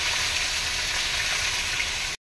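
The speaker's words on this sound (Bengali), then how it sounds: "এখন মাছ ভাজাটা চলছে" Fish frying in a pan in a village kitchen, a steady close sizzle and hiss that holds at an even level for about two seconds and then cuts off abruptly.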